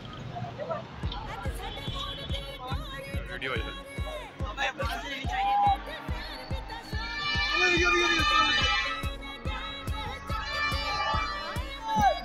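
Crowd of spectators at Karachi's National Stadium during a Pakistan Super League cricket match between Karachi Kings and Islamabad United, a steady babble of many voices with rising cheers, talk and a rhythmic thumping throughout.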